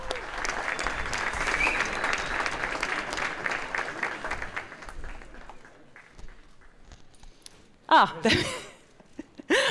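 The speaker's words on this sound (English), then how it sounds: "can I have a round of applause, please, for Mr. Samuelsson?" Audience at a Car of the Year 2018 ceremony applauding Volvo CEO Hakan Samuelsson, dense sustained clapping for several seconds that thins out, followed by brief louder sounds near the end.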